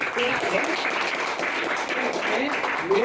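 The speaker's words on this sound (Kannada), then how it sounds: "ಸೊ ಜೋರ ಚಪ್ಪಾಳೆ ಕೊಡಿ." Audience clapping at a business opportunity presentation, a dense steady wash of applause lasting the whole stretch, with voices faintly mixed in.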